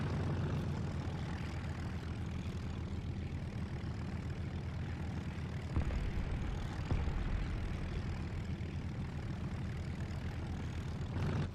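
Propeller aircraft engines drone in a steady, dense roar in War Thunder, with a B-25J-30 heavy fighter and enemy airplanes overhead during an artillery-heavy tank battle, and a couple of brief louder thumps partway through.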